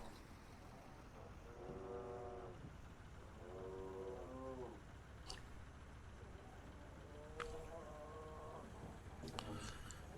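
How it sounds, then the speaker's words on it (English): Cattle at a farm feedlot in Euro Truck Simulator 2 let out several drawn-out moos in a row, faint and somewhat distant, over a low steady engine drone with sharp clicks near the end. "I think it's just the feedlot here at the farm"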